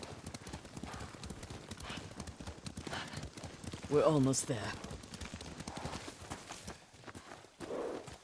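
Horse hooves clip-clop steadily beneath dialogue while riding in the Ghost of Tsushima video game, with a louder surge of hoofbeats and movement midway through; voices talk throughout.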